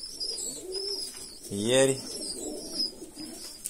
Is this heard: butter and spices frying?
no